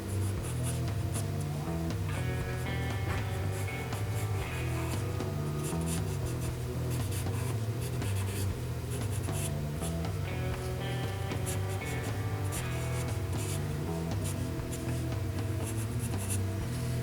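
Coloured pencil scratches steadily across paper while sketching cross-hatching, a continuous soft rasping stroke pattern beneath constant background music.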